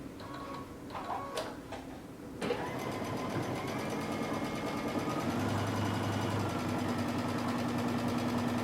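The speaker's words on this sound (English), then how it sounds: "then we're going to sew across the top so that this stays in place" A sewing machine stitches across the top of a cape, its rapid, even needle chatter running steadily after a few brief clicks and pauses, close and alone.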